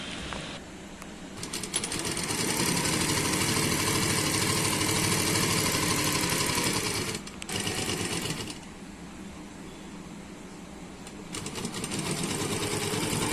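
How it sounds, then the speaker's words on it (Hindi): An electric sewing machine runs in long continuous stitching bursts, a steady buzzing whir close by with short pauses between runs, sewing a suit seam that starts at the sleeve and works down toward the chest. "तो हम स्लीव पर से सिलाई शुरू कर रहे हैं।"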